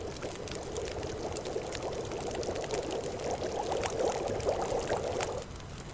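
Water collecting in The Long Dark survival game, a steady pouring and trickling stream that runs evenly for several seconds at moderate loudness, with no one talking.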